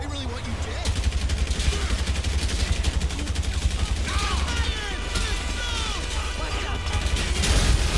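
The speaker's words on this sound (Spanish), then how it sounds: "A pegar unos cuantos tiros." In Grand Theft Auto 5, dense rapid gunfire rattles almost without a break. Bursts of automatic fire sit over a heavy low rumble, with mechanical clatter and game effects mixed in, and talk is barely audible beneath it.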